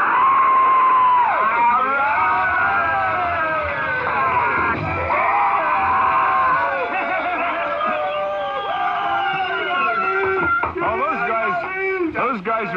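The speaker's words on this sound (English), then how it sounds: "How many people you want to yell in there?" A crowd of people yells and screams together over a telephone line into a 1980 radio interview, a loud sustained roar of mixed whoops and shouts with a thin, band-limited phone quality, fading and ragged toward the end.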